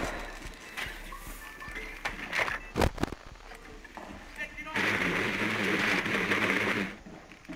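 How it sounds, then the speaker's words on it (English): Gunfire erupts during a Rainbow Six Siege team deathmatch at the Consulate map, with sharp shots and a dense burst of rapid fire, mixed with game noise and people talking. "Oh my god, they're going crazy with the bullets."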